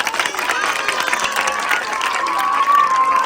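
A crowd clapping steadily at a village sports ground, dense and continuous, with some cheering and murmuring mixed in.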